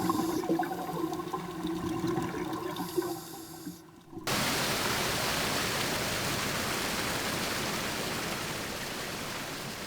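Rough sea rushes around a diver with underwater survey gear descending for a seabed artifact excavation, a broad steady roar of water that cuts in abruptly after a quieter, busier stretch and continues loud to the end.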